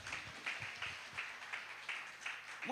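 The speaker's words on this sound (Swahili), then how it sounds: "Piga makofi mazuri." Faint, rhythmic hand clapping from a congregation at a women's camp meeting in Kisii District, with steady beats of claps heard from a distance.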